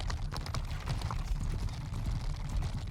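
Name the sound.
horse archers' hooves following, video game Bannerlord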